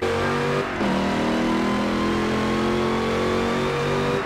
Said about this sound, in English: this car sounds good, just, revving, but listen to this whine